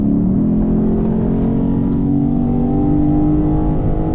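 A 2023 Lexus IS 500 F Sport V8 with active sound control turned up revs steadily and loudly close by, its rising engine drone continuous and unbroken with no voices.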